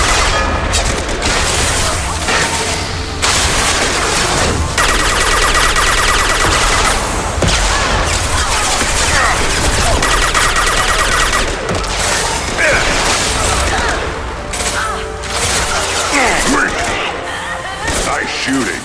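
Rapid gunfire bursts and heavy weapon blasts rattle through a Mass Effect 2 combat scene, loud and continuous, mixed with thuds and mechanical clatter while voices call out over the shooting.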